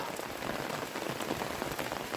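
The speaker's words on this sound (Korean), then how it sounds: "지금은 소나기까지 와갖고" Summer rain shower pattering steadily on surfaces outdoors, a dense, even hiss of raindrops close by with no voices.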